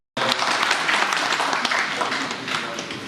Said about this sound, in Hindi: उनके लिए जोरदार तालियां सुनकर